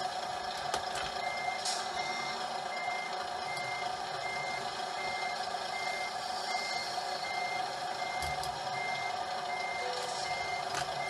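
Scania R440 or R450 Euro 6 truck reversing with a 40ft trailer, its reversing beeps repeating steadily over a continuous engine rumble and outdoor hum, with no talking.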